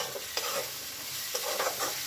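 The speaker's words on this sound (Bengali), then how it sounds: "এবার এই মশলাগুলো কিন্তু সব খুব ভালো করে আমি কষিয়ে নেব।" Spices for aloo dum fry in a pan with a steady sizzle, while a spoon stirs and scrapes them in a few close knocks and scrapes over the frying, and no one talks.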